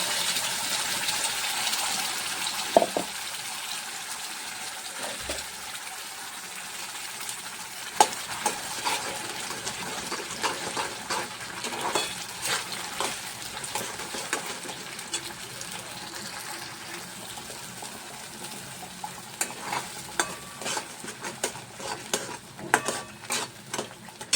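Masala spices fry in hot oil for matar paneer, a continuous crackling sizzle with frequent scraping stir strokes and small clinks, close and moderately loud, no talking.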